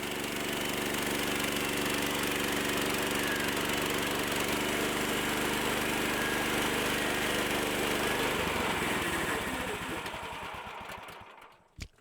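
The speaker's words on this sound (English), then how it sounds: "Right now I'm cutting some 1x4 strips" A Woodland Mills portable sawmill drones steadily as it cuts 1x4 strips, an engine hum with a sawing rasp held for several seconds, then winding down and fading near the end.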